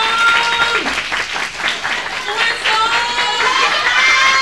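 A studio audience at a live public broadcast claps and cheers steadily throughout, a dense, close wash of applause with a few brief voices rising over it.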